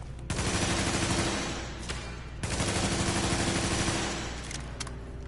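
Sustained automatic gunfire from guns in The Division video game, two long rapid bursts close and loud with a short pause between them.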